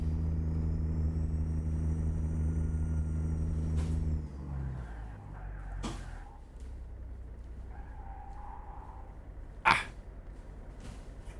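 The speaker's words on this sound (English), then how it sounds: "You can hear him locking up them brakes." A heavy truck engine drones steadily, then drops off as brakes grab with a squeal and hiss, followed by quieter road noise and a sharp burst later.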